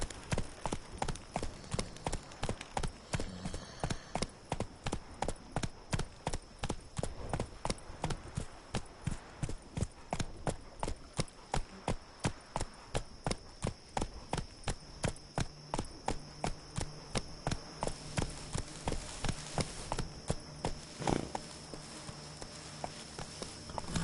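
Roach, a horse in The Witcher, gallops with a fast, steady clip-clop of hooves that runs unbroken and evenly paced for a long stretch, close and prominent.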